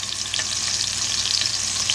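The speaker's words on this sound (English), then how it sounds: "listen to the sizzle, because that's what you want to hear." Chuck roast searing in a pot, a loud continuous hiss and sizzle of hot fat with faint crackles, close up and steady throughout, with no talk.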